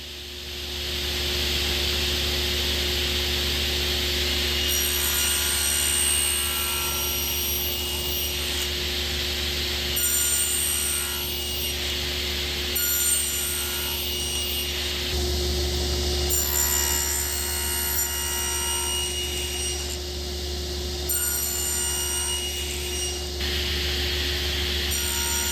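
A table saw fitted with a joinery jig whirs steadily while cutting wood, a loud continuous motor hum with repeated shifts in tone as blade passes remove material, and no one speaks.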